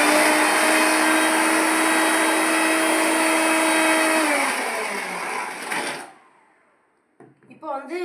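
A mixer grinder blitzing soup ingredients for mudavattukal soup, a loud steady whir that runs several seconds, winds down and stops, followed by faint clattering handling sounds.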